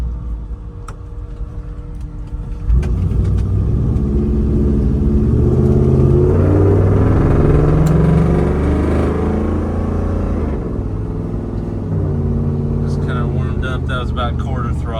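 A steady engine drone from a 1972 Ford F250 with a Coyote engine swap rumbles low and continuous from inside the non-insulated cab at quarter throttle, about 40 mph, with road noise and faint ticks layered over it.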